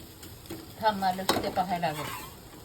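Onion frying in oil in a large kadhai, stirred with a spatula that scrapes the pan; a steady sizzle under the scraping, with a sharp clink near the middle and a voice talking.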